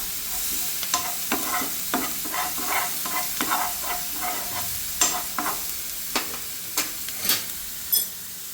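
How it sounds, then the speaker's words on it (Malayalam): Crushed dried red chilli is stir-fried in a pan for a Kerala prawn and long beans dish, a steady sizzle punctuated by repeated scraping stirs of a spatula at an uneven rhythm, close and fairly loud with no talking. "നന്നായിട്ട് ഇതിൻ്റെ പച്ചമണം പോകുന്നത് വരെ നമ്മളിതൊന്ന് റോസ്റ്റ് ചെയ്തെടുക്കാം."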